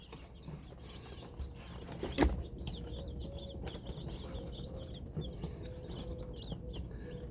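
Newly delivered Cornish Cross meat chicks in a shipping box cheep steadily in soft, overlapping peeps, with a brief clatter of handling near the start.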